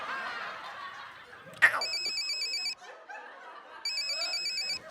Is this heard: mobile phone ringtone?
yes